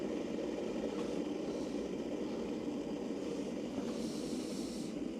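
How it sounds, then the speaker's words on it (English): A steady, rushing hiss and low rumble of an electric kettle coming to the boil inside a camper van, constant and moderately quiet throughout. "as you can hear. That's my kettle boiling."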